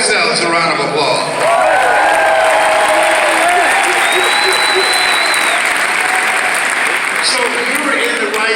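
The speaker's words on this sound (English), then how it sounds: "Give yourselves a round of applause." Audience applause at a motivational talk, a dense wash of clapping with some cheering and whoops running steadily for the whole stretch, loud and close.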